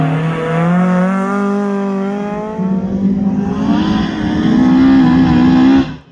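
A heavily modified Mazda MX-5 rally car drives a stage, its engine revving loud and close through rising gear pulls and a shift, the note climbing strongly before cutting off abruptly.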